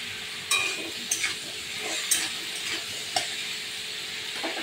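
Fish curry with yam being stirred in a pot after salt goes in, a steady low sizzle with a few sharp scrapes and clinks of the spoon at irregular intervals, no voices.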